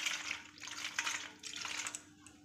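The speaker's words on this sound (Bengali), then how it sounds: "এইবার আমি তালটিকে ভালো করে জল দিয়ে ধুয়ে নেব।" Water splashes and trickles as a large black palm fruit is rinsed under running water, a steady near wash with brief pauses and no talking.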